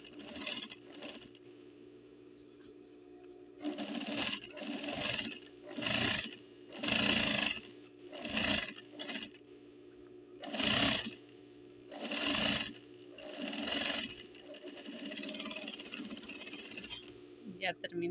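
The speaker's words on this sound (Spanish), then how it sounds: "Ya terminamos de pasarle costura recta." A sewing machine stitches a straight seam on jeans in repeated loud bursts of rapid whirring, about a second each, separated by short pauses, with low background hum.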